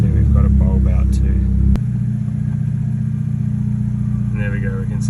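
A Volkswagen car engine catches with a sharp click and settles into a steady low idle rumble, heard close under a voice that talks before and after.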